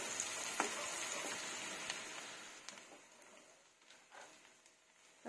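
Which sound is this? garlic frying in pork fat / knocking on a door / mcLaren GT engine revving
garlic frying in pork fat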